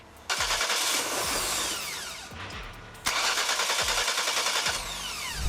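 A car engine cranks repeatedly during a fuel pump test, the starter churning in a steady rhythmic whir that stops briefly, then resumes for another long crank, loud and close with no talking.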